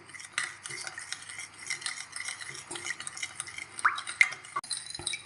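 Sweet and sour sauce with added water being stirred in a pot for chicken meatballs: close irregular spoon clinks and scrapes against the metal with light liquid sloshing, brief and fairly quiet, no talking.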